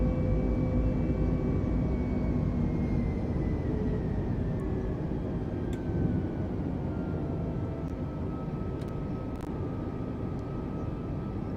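Airbus A310 airliner just after takeoff from Detroit in Microsoft Flight Simulator 2020, a steady, loud engine roar with a slowly falling whine holding throughout, no voices.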